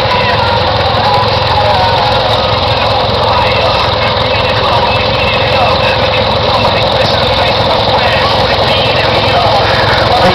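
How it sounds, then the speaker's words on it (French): A 1949 Mack DR40 two-cylinder vintage tractor runs at a threshing festival in St Christophe, its engine a loud, close, steady chugging drone that holds unchanged throughout. "Donc c'est le Mack DR40 de Francis II, deux cylindres, qui a été restauré par Gérard"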